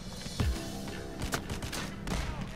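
Gunfire during a bank heist in PAYDAY: The Heist, a few scattered sharp shots at low level over busy game background noise.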